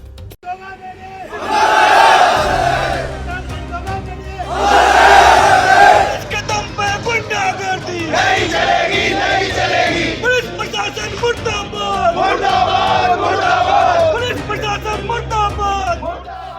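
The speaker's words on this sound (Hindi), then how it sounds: "सड़कों पर हंगामा, आक्रोशित भीड़ और नारेबाजी" Angry crowd in a street protest in Rajasthan shouting slogans in loud rhythmic bursts, massed voices rising and falling in repeated chants with continuous babble between them.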